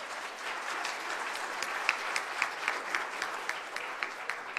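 Practice applause from an audience at an awards ceremony, sustained moderate clapping from many hands with a few sharper individual claps standing out.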